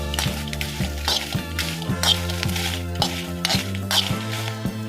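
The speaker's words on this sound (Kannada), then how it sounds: "ಬ್ಯಾಡಗಿ ಮೆಣಸನ್ನು ಚೆನ್ನಾಗಿ ನಾನು ಹುರ್ಕೊಳ್ತಾ ಇದ್ದೀನಿ." Byadagi chillies roasting in coconut oil in a pan, with a steady low sizzle under repeated metallic clinks of a utensil against the pan at a regular rhythm, close and fairly loud.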